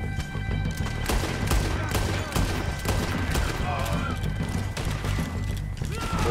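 Rapid, dense gunshots fill Red Dead Redemption 2 gameplay over a steady rumble, with horse-like sounds in a busy mix as excited voices talk over the shooting.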